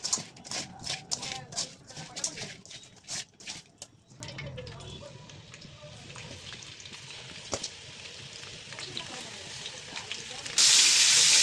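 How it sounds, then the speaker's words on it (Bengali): Fish pieces coated in chili, turmeric and salt are rubbed and handled with soft rustling taps, then a loud, close, steady sizzle bursts in near the end as the fish hits hot oil to fry crisp. "এখন ভালো করে মাখিয়ে কড়া করে এটাকে ভাজে নেব"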